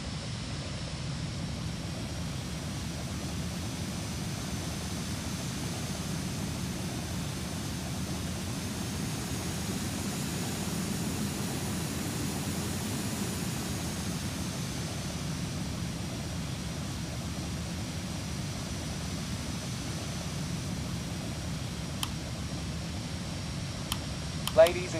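A Volaris A320neo taxiing in the Real Flight Simulator video game, a steady, faint engine hum and airflow hiss lasting the whole stretch, with a few soft clicks near the end.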